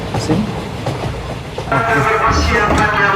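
A Jakarta KRL commuter train rolls along the rails with rhythmic clacking and metallic squeals, heard from inside the car; background voices murmur faintly.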